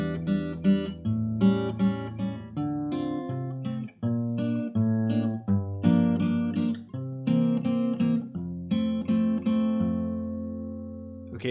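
Acoustic guitar in standard tuning playing the chorus of a song, clear plucked chords and single notes in a steady paced phrase, solo without voices.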